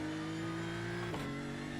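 A diesel race car in iRacing revs steadily, its engine note holding a sustained tone before a sharp shift and a brief change in pitch near the end, loud and alone without talk.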